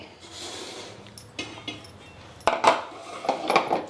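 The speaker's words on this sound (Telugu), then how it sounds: "ఇట్లా బాగా మెదిపేసుకోండి" Cooked greens (koyya thotakura, an amaranth variety) mashed with a spoon in a pot: scattered soft scrapes and sharper metallic clinks in the second half, fairly close, no talking.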